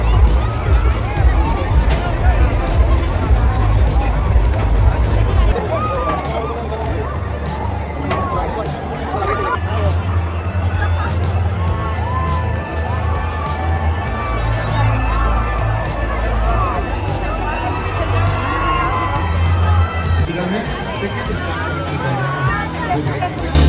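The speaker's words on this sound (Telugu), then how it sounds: "అందరూ అరుపులు కేకలు పెట్టి ఫుల్ ఎంజాయ్ చేస్తున్నారు" Crowds shouting, screaming and cheering on fun rides at the Numaish winter exhibition in Nampally, a dense continuous roar of excited voices and babble over rumbling ride machinery, with shrieks rising and falling throughout.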